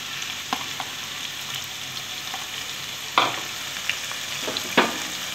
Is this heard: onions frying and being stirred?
yes